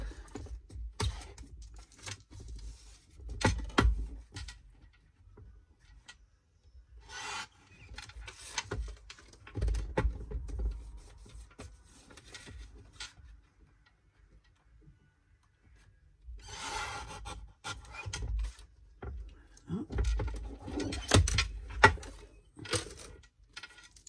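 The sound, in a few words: cutting out a card piece for a card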